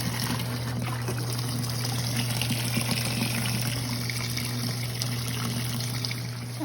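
A washing machine fills with water for a wash load, a steady low hum with a soft continuous trickle and rush of water, faint and even throughout with no voices.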